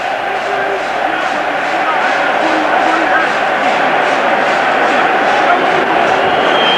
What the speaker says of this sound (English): And the crowd are right behind them.